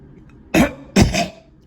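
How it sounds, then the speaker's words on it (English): Two sharp, close coughs in quick succession from a person who has just swallowed a Skittle candy, each a loud broadband burst over a quiet background. "I just swallowed my Skittle and coughed it up"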